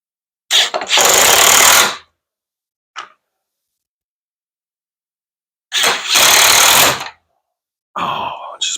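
A cordless drill drives screws into the feet of a BORA miter saw stand, with two loud bursts of motor whir about a second long each, a brief tap between them, and a shorter trailing buzz.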